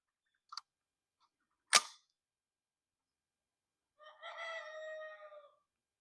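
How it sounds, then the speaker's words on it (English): A rooster crows once, clear and fairly near, at an outdoor shooting range during AR-400 ammunition testing, following a sharp crack and a couple of faint clicks in otherwise quiet surroundings. "The rooster's trying to approve."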